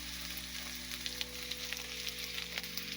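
Onions for a moose meat meal frying in a pan, a soft, faint, steady sizzle with small crackles scattered throughout and no speech.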